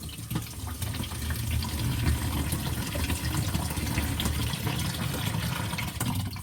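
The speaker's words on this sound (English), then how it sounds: "I'll rinse that a little bit more here" Running water rinses out a clogged bathroom vanity drain, a steady close splashing gush with no break.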